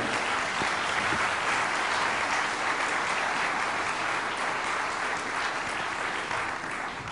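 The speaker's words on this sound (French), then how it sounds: "Donc je voulais également qu'on l'applaudisse, elle est là-bas." A crowd at a New Year's greetings event in Béthune applauds a pianist, a dense, even wash of clapping that holds at a steady loud level from start to finish.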